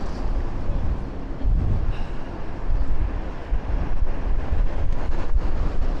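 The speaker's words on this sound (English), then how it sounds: "It's a very, very windy corner." Strong storm wind roars and buffets the microphone continuously on a seaside promenade in Blackpool, a loud, gusty rumble that swells and dips throughout.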